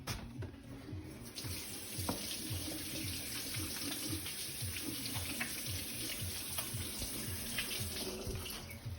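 Tap water runs steadily from a kitchen faucet while hands are washed, a continuous close splashing hiss with a faint low hum beneath, lasting the whole stretch with no talk.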